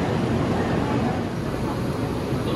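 A JR Central Iida Line local train departing Toyohashi Station runs with a steady, broad rumbling roar that holds even and fairly loud from start to finish.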